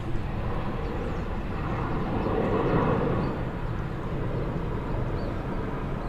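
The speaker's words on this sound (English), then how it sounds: "That is a Garuda Indonesia aircraft." A Garuda Indonesia airliner takes off at Incheon Airport, heard as a steady, broad jet roar that swells slightly midway and holds throughout with no talking.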